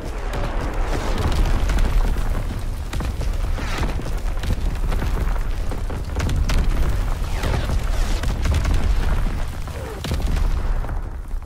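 Incoming enemy artillery in Call of Duty: WWII, with repeated heavy booming blasts and rumbling debris, close and loud, rolling over each other in an irregular barrage.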